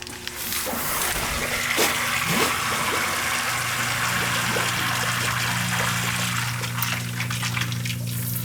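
A Zoeller M57 submersible sump pump with a failing float switch runs without shutting off, giving a steady rush of churning water; a low motor hum swells in partway through as the pump begins surging.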